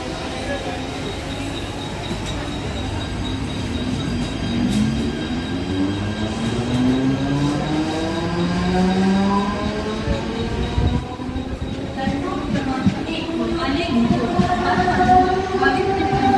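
A Mumbai local train moves through a Central Line station, its wheels squealing in rising and falling tones over a steady rumble of rolling carriages, loud and close for the whole stretch.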